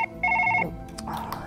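Telephone ringtone in the Surgeon Simulator video game: a bright electronic ring in two short bursts, loud and close, after which faint voices and game noise continue.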